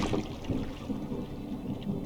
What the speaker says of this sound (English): Was that thunder? Still distant.